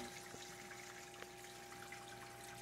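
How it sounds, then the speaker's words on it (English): Water spills into the overflow box of a large 12-foot aquarium and drains down toward the sump, a soft, steady trickle with a faint constant pump hum underneath. "the water, once it falls into the back of that overflow box, there's three supply lines that go down to the filtration system"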